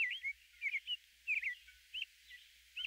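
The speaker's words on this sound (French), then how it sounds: "Là, un merle commence à chanter." Eurasian blackbird singing in a spring dawn chorus, short fluting, warbling phrases repeated every half second or so, clear but moderately distant against a quiet background.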